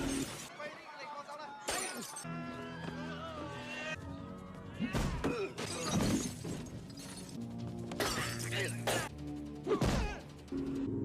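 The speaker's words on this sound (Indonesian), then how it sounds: "Bom yang di aula rapat tadi pun meledak." A bomb explodes in a meeting hall during a film scene, bursting with sharp shattering crashes and smashing debris amid dramatic music and other effects, loud and repeated over several seconds.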